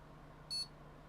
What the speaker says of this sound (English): We got a boot beep